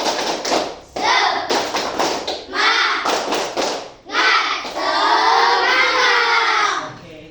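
A classroom group claps in unison for a spirit cheer, loud, close bursts of rhythmic hand claps in short patterned sets with brief pauses, ending in a long sustained stretch of clapping.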